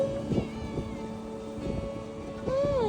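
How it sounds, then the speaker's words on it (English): A cat being fed leftover chicken wings gives a single rising-then-falling meow near the end, over a steady droning hum and rustling background. "I have a cat I'm feeding."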